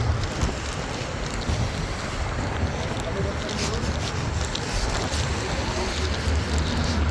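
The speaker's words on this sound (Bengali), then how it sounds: "অনেক বাতাস, কেন প্রচুর প্রচুর বাতাস" Strong wind buffets the microphone outdoors at night near open water, a dense, continuous roaring rumble with loud low gusts that never let up.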